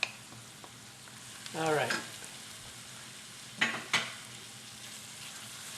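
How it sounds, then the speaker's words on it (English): Ginger browning with onions and garlic in a pan for chicken adobo, heard as a quiet steady sizzle with a couple of brief stirring scrapes and a short spoken remark. "I'm going to brown up this ginger with the onions and the garlic."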